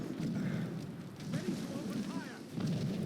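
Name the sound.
ship cannons firing in video game Assassin's Creed Rogue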